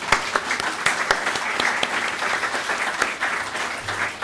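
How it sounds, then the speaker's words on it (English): Audience applause at a talk, a dense, steady clatter of many hands clapping close and fairly loud throughout, with no voices over it. "So Deb, I really want to give you a round of applause and say thank you."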